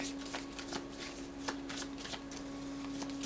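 Close, rapid riffling of a card deck, with repeated crisp bursts of shuffling under a faint steady hum.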